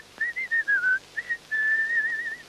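A tiny figure at a moonlit window whistles a clear, high tune in several short phrases, then one long sustained note, close and alone against a quiet background.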